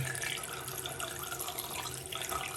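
A tap runs steadily while car upholstery side panels and an armrest are washed, a continuous splashing rush of water filling the whole stretch without pause, close and fairly loud, with no talking.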